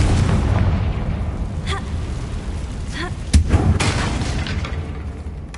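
A Confringo spell explosion in the Hogwarts Legacy game: one sharp burst followed by a short rumbling boom over a constant background of game ambience.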